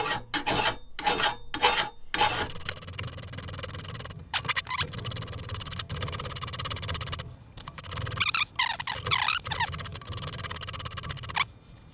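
Hand file rasping back and forth along the edge of a Craftsman lawn mower blade, loud close strokes in short bursts at first, then longer steady runs of grinding with brief pauses.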